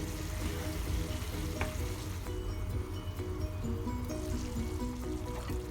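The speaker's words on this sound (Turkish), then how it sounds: "Yemeğimiz tam gaz pişmeye devam ediyor." Chicken sauté cooking on high heat with a little butter, a loud, dense continuous frying sizzle with bubbling, steady throughout.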